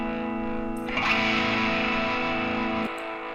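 A distorted electric guitar panned left with no EQ, holding a sustained buzzing chord that swells brighter partway through and cuts off near the end.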